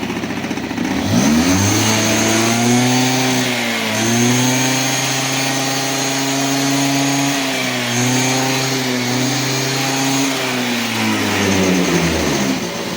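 Small scooter engine running just after starting, a close buzzing drone that holds steady and briefly dips and rises in pitch a couple of times, loud and alone without speech.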